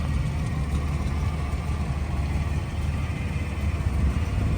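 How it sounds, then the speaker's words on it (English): 1987 Buick Regal turbo engine idling with a worn power steering pump, a steady, close low rumble with a faint continuous whine above it. "I think I have a power steering pump kind of going out. You can kind of hear it whine."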